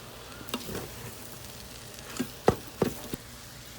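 Fried rice with soy sauce sizzling in a pan in an RV kitchen, a steady hiss broken by several clanks and scrapes of a spoon as it is stirred.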